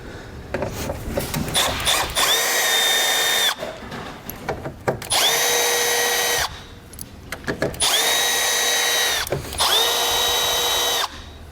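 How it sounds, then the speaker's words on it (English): A power drill with a T20 Torx bit backs bolts out of a vehicle grille during a base plate install, four loud, close whirring bursts of a couple of seconds each, separated by short quiet gaps. "Then we're going to take a T20 Torx bit. We're going to remove 7 bolts that run across the top of our grill."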